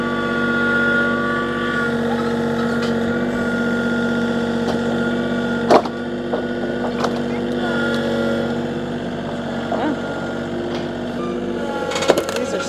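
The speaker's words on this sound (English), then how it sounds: "I'm going to get the tractor and see if we can start popping these up." A tractor engine runs steadily near muddy ground where vehicles are stuck, a constant mechanical hum with a couple of sharp knocks and clanks over it.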